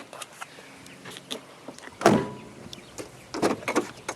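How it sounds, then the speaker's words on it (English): A door on a 1981 Mercedes-Benz W123 240D diesel sedan shuts with a solid thump, preceded by faint latch clicks and followed by a few lighter knocks, close and alone. "I love the sound of a Mercedes W123 door."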